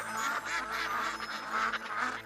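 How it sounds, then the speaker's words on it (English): Ducks quacking repeatedly in a steady run of nasal calls, fairly close and continuous, with no talk over them. "Ducks can swim, ducks can fly, and ducks can walk on land."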